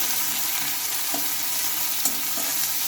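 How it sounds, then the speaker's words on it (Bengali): Chopped onions dropped into hot oil, a loud, dense, even hiss of frying with a few faint pops and no voices. "আর তেলের উপরে এখন হচ্ছে আমি দিয়ে নেবো কোচানো পেঁয়াজ"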